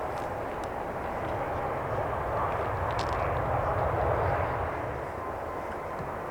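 An airliner touches down on the runway at Manchester Airport, a broad, steady roar of engines and rushing air that swells slightly toward the middle before easing off.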